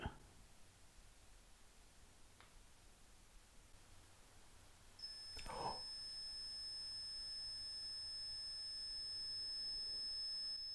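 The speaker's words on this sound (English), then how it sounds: "If you get closer to it, it'll beep." A quiet hiss with a brief rustle, then a high electronic alarm tone starts and holds steadily until the end, fairly faint.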